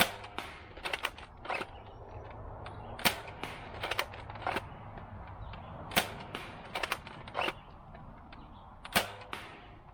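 A T238 RGB Scar Tracer blaster fires long foam darts in a string of sharp, close snapping shots, some in quick pairs and bursts, with quiet gaps between them and no talk.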